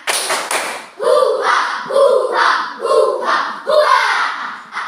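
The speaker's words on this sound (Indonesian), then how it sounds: "Tepuk semangat." Schoolchildren in a classroom perform the chanted 'tepuk semangat' spirit clap together, with about five strong rhythmic bursts of clapping and voices, loud and close.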